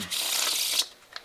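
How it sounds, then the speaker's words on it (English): A deck of playing cards riffled in one close, continuous shuffle lasting under a second, then a couple of soft taps as the cards settle, during a magic show. "I'm going to give the cards a shuffle"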